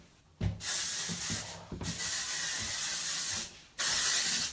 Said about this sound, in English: I'm really spraying today because it's very daggy.